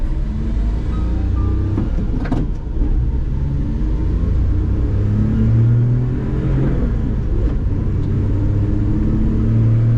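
A truck engine rumbles and revs while driving, a loud, continuous low drone with rising and falling engine pitch throughout.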